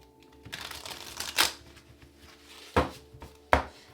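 A new, stiff deck of tarot cards being shuffled gives a few quiet, scattered riffling snaps and rustles, close by, with soft gaps between them.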